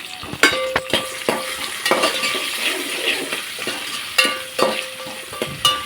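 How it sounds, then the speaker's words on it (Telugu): Onions, dried red chillies and curry leaves frying in oil for a fish curry, a steady close sizzle punctuated by regular spatula scrapes and taps against the pan, with no voices. "ఆనియన్స్ ఎండుమిర్చి కరివేపాకు వేసి చక్కగా ఫ్రై చేస్తున్నామండి"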